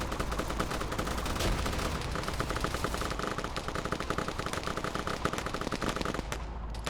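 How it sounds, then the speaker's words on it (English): Sustained automatic gunfire from a Call of Duty firefight, dense rapid bursts overlapping continuously and loud throughout, with no voices, before cutting off abruptly near the end. "here's gonna be the first firefight"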